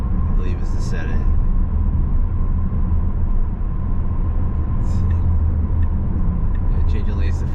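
A Tesla drives on the road under Full Self-Driving, with a steady low road and engine rumble throughout and a person talking over it.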